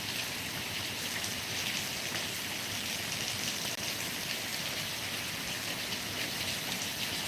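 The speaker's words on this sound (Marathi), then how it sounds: "खूप जोरदार आणि मुसळधार असा पाऊस" Heavy torrential monsoon rain pours down as a dense, unbroken roaring hiss of drops hitting surfaces, steady and loud throughout with no speech.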